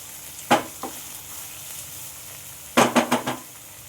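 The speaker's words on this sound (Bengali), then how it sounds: "পেঁয়াজটা আমি এরকমভাবেই যতক্ষণ পর্যন্ত লাল না হচ্ছে এভাবে নাড়াচাড়া করব।" Onions frying in oil for mutton kosha under a low steady sizzle, stirred with a spoon that scrapes the pan once, again shortly after, then in a quick burst of four strokes.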